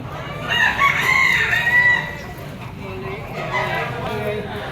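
A pumpkin stag rooster crows loudly and close at a gamefowl market in Padre Garcia, Batangas, followed by softer clucking while people talk nearby.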